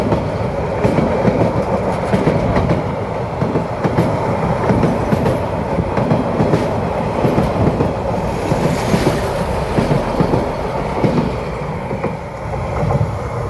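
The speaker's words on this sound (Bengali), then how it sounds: "অবশেষে চলে গেল সেই ট্রেনটি," Probal Express train pulling out of Cox's Bazar station toward Chattogram, a loud, steady rumble with rhythmic wheel clatter and rail noise throughout, no voices.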